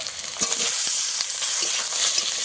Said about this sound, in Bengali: পেঁয়াজ টমেটো ভালো করে আরেকটু ভাজবো